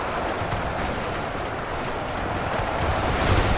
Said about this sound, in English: gunfire coming in over this way